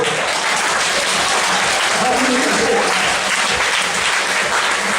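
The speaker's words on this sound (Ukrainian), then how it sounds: "Оплески." A concert hall audience breaks into loud, dense applause that stays steady and continuous throughout, with faint voices mixed into the crowd noise.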